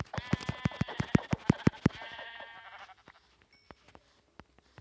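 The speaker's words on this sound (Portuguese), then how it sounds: "Nossa, aqui tem muita ovelha." Minecraft sheep bleat in a rapid burst of loud, near, repeated cries for about two seconds, then fade to a few faint scattered clicks in near silence.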